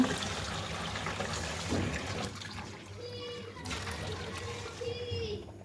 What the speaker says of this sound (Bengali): এর মধ্যে আমি চাল ধুয়ে নিব।